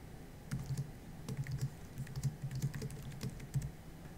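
Steady typing on a computer keyboard while writing text into a LaTeX document, with irregular bursts of soft, close key clicks and no talking.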